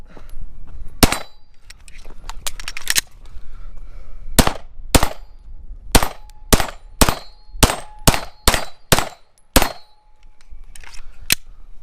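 Glock 19 pistol shots ringing off steel targets at an outdoor range: about a dozen loud, sharp reports, some in quick pairs, with metallic pings between them, spread across the stretch with a short pause partway.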